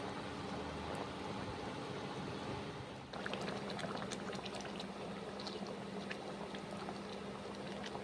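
Cauliflower curry simmers in a pan after water is added, giving a steady close bubbling hiss, with a brief pour or stir sound partway through and no talking.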